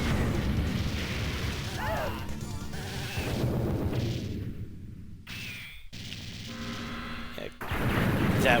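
Bursts of explosions and blasts from the 1992 Konami G.I. Joe arcade game, repeated booms and crackling detonations mixed with game effects, fairly loud with sudden dropouts between.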